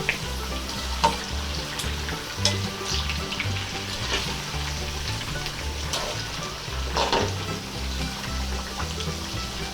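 Sliced sweet potato frying with sugar, stirred steadily in a pan of hot oil, gives a continuous close sizzle with occasional scraping clinks of the utensil, and a low steady hum runs underneath.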